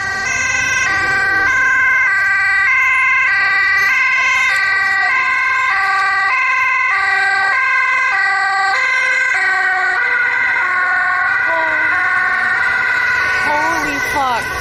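Loud, close emergency vehicle siren on the streets of Amsterdam, wailing continuously in a repeating two-tone pattern for the whole stretch, with faint traffic rumble beneath.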